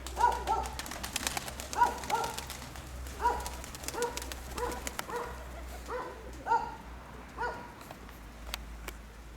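Pigeons coo in a steady, repeating pattern, each throaty call recurring roughly every one and a half seconds, close and clear over a low constant hum, with a few sharp clicks and rustles between calls.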